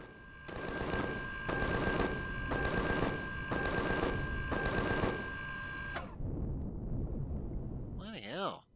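Rapid automatic gunfire in Empyrion Galactic Survival, with sustained bursts over a steady ringing mechanical tone, then a pause near the end and a short warbling electronic sweep. Someone talks over parts of it.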